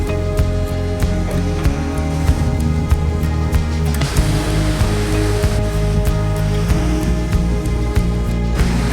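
Atlantic Ocean waves and surf rolling in steadily, a continuous loud wash of breaking water that swells and thickens partway through, with no voices over it.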